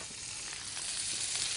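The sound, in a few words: cumin seeds and onions sizzling in a karahi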